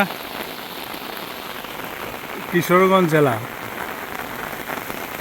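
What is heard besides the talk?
heavy rain falling in village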